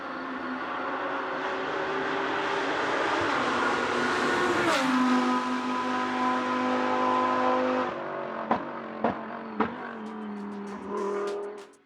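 Race car engine heard from outside the car in the Rennsport racing game: a loud, sustained revving roar rising and shifting through gears, then a few sharp pops and bangs as it backs off and passes.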